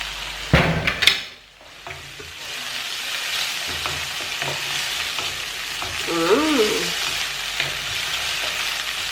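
Steady sizzling of coconut fried rice stir-frying in a pot, with a few scraping stirs and clanks early on, close and fairly loud.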